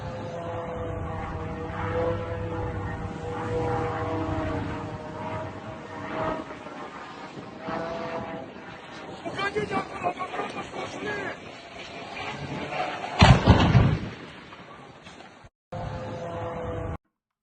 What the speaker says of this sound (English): where we had this drone entering and striking one of the barracks over here